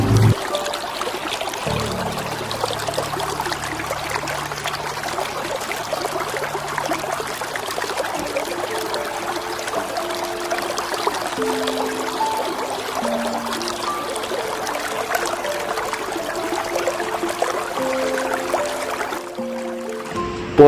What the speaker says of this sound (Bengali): খালি সমুদ্রের ঢেউয়ের আওয়াজ কানে সুন্দরভাবে ভেসে আসছে।